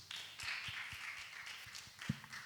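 Church youth-service audience clapping hands, a scattered, uneven patter of claps in a reverberant hall, moderately loud and continuing steadily without speech.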